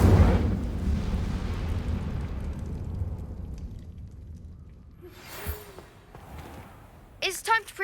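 The Incendio fire spell in Hogwarts Legacy bursts out as a loud, roaring whoosh of flame that fades away over several seconds, followed by fainter magical effects and a brief voice.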